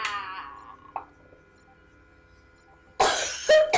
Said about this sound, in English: So when you have rabies, you cough.